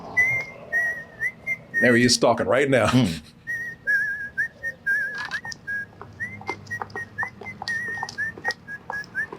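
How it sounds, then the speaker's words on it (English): A man whistles the bright, wavering tune from Kill Bill throughout, broken by a brief burst of loud talk in the middle, with speech continuing quietly alongside the melody. "While whistling his tune."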